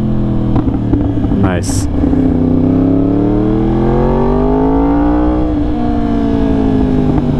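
Yamaha R1M sport motorcycle engine blipping and revving through clutchless downshifts, a loud close riding roar whose pitch climbs and falls in smooth sweeps, with a rider's voice speaking briefly.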